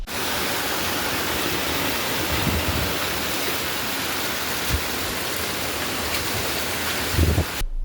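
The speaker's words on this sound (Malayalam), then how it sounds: "കനത്ത മഴയ്ക്കിടെ അഭൂതപൂർവമായ വെള്ളക്കുത്തൊഴുക്ക് കണ്ട് പ്രദേശവാസികൾ പരിഭ്രാന്തരായി" Flash-flood water from the hills rushing through a residential area at Panayur, Vaniyamkulam, after heavy rain, a loud, unbroken roar of torrent with occasional low thuds, heard alone.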